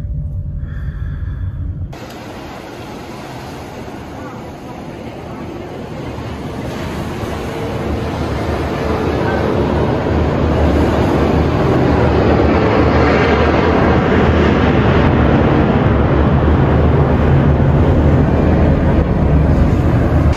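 An airplane passes overhead near the seaside airport at Adler: after a brief quieter moment, a loud broadband roar swells steadily and holds as a heavy rumbling wash with no talk.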